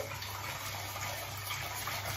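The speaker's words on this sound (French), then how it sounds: "je vais verser tout doucement dans l'autre casserole, en fait, sur les œufs, mon lait bouillant" Steady pouring of boiling milk from one saucepan onto eggs in another, a continuous soft rushing stream with no talking, close and even throughout.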